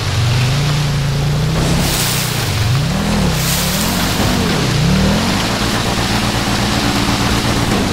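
A small Wagon R car drives through water in GTA 5, its engine droning loud and steady with a wavering pitch while water rushes and splashes around it.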